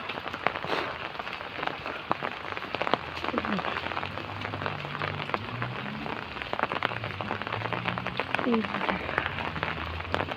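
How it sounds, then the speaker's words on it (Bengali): Heavy rain pours steadily on a village road in the morning, a dense continuous hiss with scattered drips and patters, while a voice speaks faintly underneath. "এখন একটু বৃষ্টি জোরে পড়তেছে"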